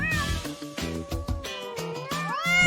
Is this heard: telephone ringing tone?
no